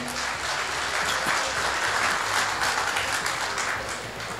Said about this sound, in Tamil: ஒரு கைதட்டு மூலம் அவர் நல்லா ஒரு பாராட்டு தெரிவிச்சிருங்க